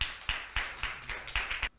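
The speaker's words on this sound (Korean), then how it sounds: "네, 박수." A small group claps briefly at a church ceremony appointing migrant missionaries, a quick run of about seven sharp, fairly quiet claps that stops suddenly.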